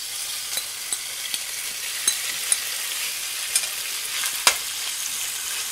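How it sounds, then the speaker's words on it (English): Steak tips fry in hot oil in a pan for a stir fry, a constant loud sizzle close by broken by scattered sharp pops and spits, with no talking. "So we're going to be cooking the steak tips for just a few minutes to get them done in this hot oil"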